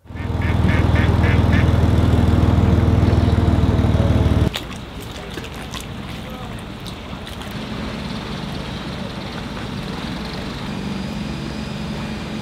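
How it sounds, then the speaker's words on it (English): An amphibious boat-bus, a convertible that works as both boat and bus, sounds its duck-quack horn in a short run of nasal honks over loud, steady engine and road rumble, which then drops to a quieter background. "a funny-looking convertible, sometimes a boat, sometimes a bus, with a horn sounding like a duck."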